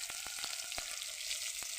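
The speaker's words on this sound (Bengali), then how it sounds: "মিলিয়ে আমি একটু হালকা হালকা ভেজে নেব।" Green peas and tomatoes fry in a pan for a potato fish curry, a soft, steady sizzle punctuated by a quick series of quiet spatula taps and scrapes, with no one speaking.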